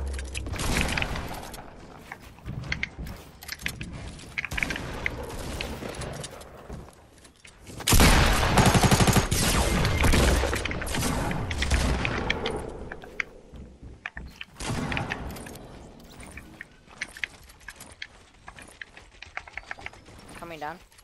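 Rapid bursts of video game gunfire in a shootout, dense crackling volleys and booms that swell loudly mid-clip before thinning out, with players talking over the action.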